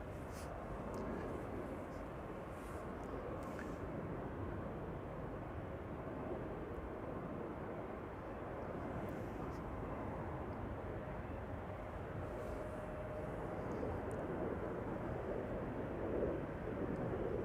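An Emirates SkyCargo freighter taxis at Schiphol airport, a steady low distant engine rumble with faint wind buffeting, slowly swelling slightly toward the end.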